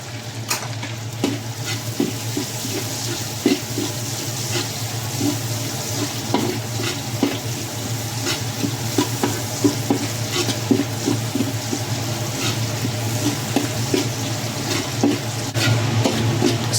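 Onions are sautéed in a pan for a tofu, pork and kangkong dish in oyster sauce, giving a loud, steady close-up sizzle with frequent scraping and tapping of the stirring utensil throughout.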